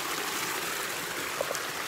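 Ping Nam Stream in Hong Kong flows over rocks as a steady, close, rushing wash of water with no break, and a faint brief chirp near the end.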